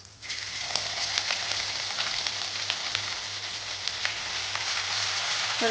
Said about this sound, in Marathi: जिरे तडकले आहेत यामध्ये थोडीशी हिंग आणि अद्रक लसूणची केलेली पेस्ट